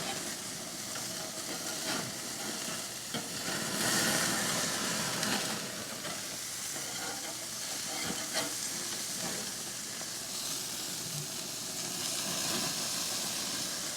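Burgers sizzling on a grill cooking a little too fast, a steady, loud hiss and crackle of frying fat continuing throughout with no pause.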